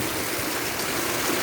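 Heavy monsoon rainwater rushes and pours past in a steady, dense wash of noise, loud and unbroken, with no voices over it.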